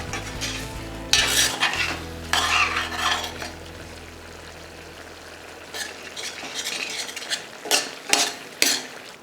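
Cornflour slurry goes into a pan of chilli chicken gravy, which is then stirred briskly, with bursts of sizzling and a spoon scraping and clinking against the pan, close up and with no talking.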